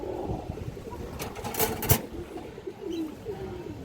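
A red-eyed road-line pigeon offered for sale coos in low murmuring calls amid close, faint clatter and a brief sharp knock, with no one talking.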